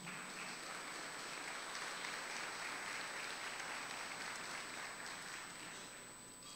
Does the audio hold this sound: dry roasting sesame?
no